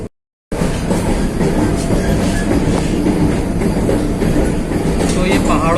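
A train runs through mountain tunnels on the way to Katra, a dense, steady rumble of wheels and rolling stock with a faint clickety-clack, loud and continuous after a brief silent start.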